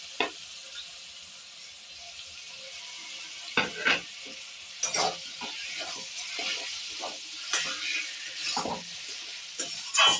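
Salt and turmeric coated fish stirred and fried in a pan of oil: a quiet sizzle under scattered clattering spatula scrapes and turns, coming in bursts that pick up in the second half, close by with no talking.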